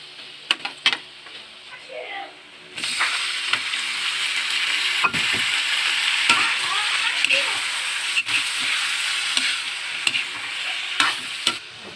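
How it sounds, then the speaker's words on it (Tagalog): Garlic frying in butter in a home kitchen, a loud continuous sizzle that erupts after a quiet start, broken by stirring scrapes and clinks, with a voice speaking over it. "Tingnan natin yung butter. Lagay ko na rin yung bawang."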